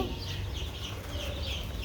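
Four-day-old tiger chicken chicks peep repeatedly in quick, high chirps over a steady low background hum.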